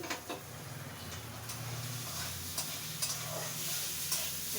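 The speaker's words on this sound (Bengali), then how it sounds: "ভাজা হয়ে যাচ্ছে মোটামুটি হচ্ছে ভাজা" Food sizzles steadily in a pan while a utensil stirs it, with occasional sharp scrapes and taps against the pan over a constant frying hiss, near and moderately loud, with no talk.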